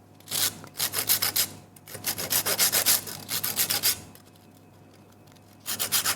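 Tim Tam chocolate cookies rubbed against a sander, bursts of dry gritty scraping in short rapid strokes, close up, separated by quiet pauses.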